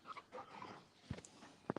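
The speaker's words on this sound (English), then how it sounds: "My dog's going nuts here." A pet dog pants and whimpers in short, faint bursts near the microphone during a home livestream, with brief louder yelps toward the end.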